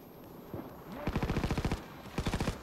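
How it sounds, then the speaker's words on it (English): Rapid automatic gunfire in the PAYDAY 2 bank heist game as the crew shoots at police, two sharp bursts of evenly spaced shots, loud and close, with a brief pause between them. "As if us shooting the police isn't enough."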